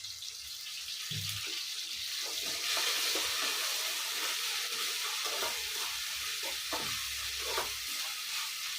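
Ginger garlic paste frying in a pan for a soya pepper fry with green chillies, giving a steady, close hiss of sizzling oil with a few soft stirring scrapes and knocks throughout.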